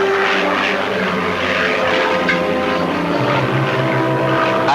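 Captain Guérin's propeller airplane takes off on a search flight over the Franco-Italian frontier mountains, a steady loud engine drone with a pitch shift near the end, alone with no talk.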